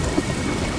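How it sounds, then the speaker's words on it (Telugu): Heavy rain pouring down at night, a dense, steady roar that stays constant through the short stretch with no voices. "ఆ రోజు విపరీతమైన వర్షం పడుతుంది"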